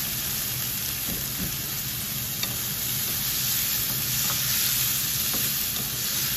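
Pechay and tofu stir-fried in a pan, giving a steady close sizzle with scattered soft scrapes and clinks of stirring throughout, and no talking.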